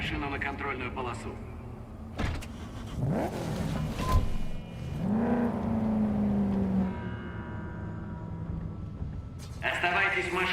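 A car engine in Cyberpunk 2077 drives up to a checkpoint, a steady loud hum with a rising rev and a sliding pitch midway, while people talk over it.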